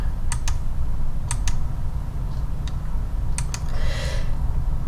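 Keys clack on a computer keyboard during PE Design 10 embroidery digitizing work: sparse single and paired taps, crisp and close, spread over a few seconds with a quiet steady hum beneath.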